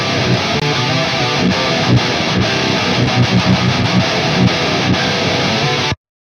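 Distorted metal rhythm guitars through a Softube Celestion speaker shaper with the following EQs and multiband disengaged: dense, loud, continuous chugging riffs, played alone and stopping suddenly at the end.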